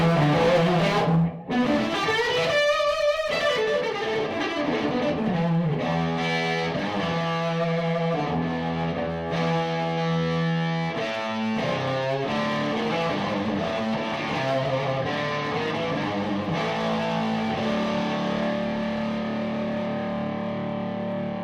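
Electric guitar through a 25th Anniversary PRS amp, its front end just barely pushed by an Echoplex EP booster, playing sustained chords and melodic runs with mild overdrive and echo, loud and continuous with no talking.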